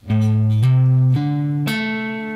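Four sustained guitar notes step through a pentatonic box-shape phrase from a guitar lick, each plucked cleanly and ringing into the next, loud and close.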